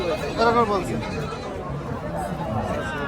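A goat gives one short, wavering bleat early on, amid steady crowd chatter and background noise of a busy outdoor livestock market in Tebaria, Natore, Bangladesh.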